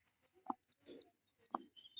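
Three-day-old chicks peep in quick, high bursts around their mother hen, who gives two short, low clucks about a second apart. The sounds are close but quiet, with no talk.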